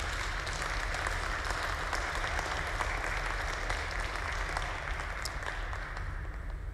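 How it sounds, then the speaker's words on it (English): An audience applauds after an artist talk, dense steady clapping that fills the room at an even level throughout. "But that clapping's not for me,"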